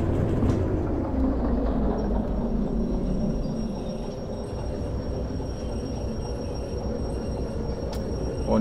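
A train runs on rails through a snowy landscape in the game Derail Valley, giving a steady loud rumble with a faint rhythmic clatter throughout and no talking.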